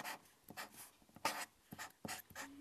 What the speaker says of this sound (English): the lady at Starbucks writing my name on a cup